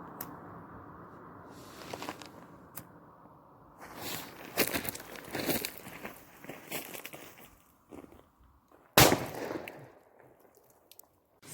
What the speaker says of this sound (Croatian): Sada ide ljudi Fiesta petarda.